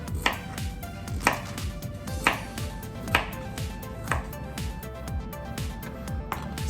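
A knife cubes jicama for Filipino sipo egg, each stroke landing as a crisp thud on the cutting board in a slow, even rhythm of about one chop per second, close and clear.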